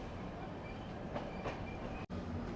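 A passenger train rolls into Kollam railway station with a continuous heavy rumble and faint rhythmic wheel clatter, loud and close, briefly cut by one sharp gap.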